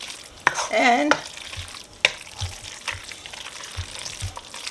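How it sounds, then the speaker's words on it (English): A spoon stirs Parmesan cheese into a pot of one-pot pumpkin pasta, a close soft scraping and wet churning with a faint sizzle underneath and a few knocks against the pot, while a voice says a single word. "now I mix the Parmesan cheese in"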